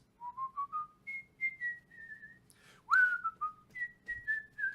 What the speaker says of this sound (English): I'm just going to whistle some Herb Alpert.